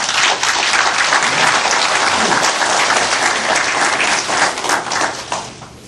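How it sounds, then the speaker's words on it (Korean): A large crowd applauds loudly and steadily for several seconds at a televised presidential candidate debate, the clapping tapering off slightly at the end. "후보를 박수로"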